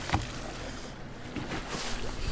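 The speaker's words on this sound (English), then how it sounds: "Man, this wind is ripping." Strong wind rips across open water while anglers fish for walleye from a boat. It makes a constant rough buffeting roar close to the microphone, with a few low thumps of gusts hitting it.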